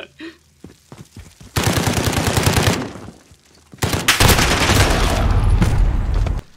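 Sustained automatic gunfire from a Modern Warfare gunfight in two loud, dense bursts separated by a short lull, with faint game sounds at the start.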